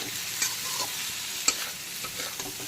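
Shrimp coated in salt, turmeric and raw mustard oil sizzles steadily in a hot kadai, a constant close crackle with a few sharper pops and stirring scrapes, no voices.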